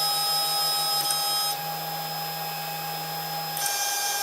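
A 3D printer axis travels up and then down while homing, its stepper motor whining in a steady tone that shifts pitch partway through, close up and without talk.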